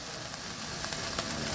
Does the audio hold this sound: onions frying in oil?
yes